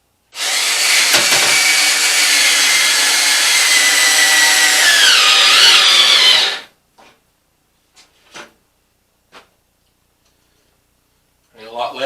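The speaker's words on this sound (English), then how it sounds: "Ain't a lot left in this drill either." A worn power drill runs loud and continuous for about six seconds during a workshop stovepipe repair, its whine rising slightly before it stops, followed by a few scattered clicks and knocks.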